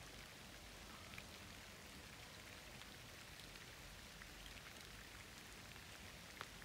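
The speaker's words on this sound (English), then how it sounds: "Can you hear the rain on the water?" Rain falls on the water of Skipwith ponds in a summer shower, a soft, even patter of drops heard faintly and continuously with no voices.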